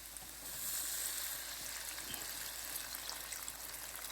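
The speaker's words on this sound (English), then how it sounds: "Now I'm gonna add the beef broth in there." Beef broth pours steadily into cooking flour in a pan, a soft continuous liquid stream and trickle heard close up with no talking.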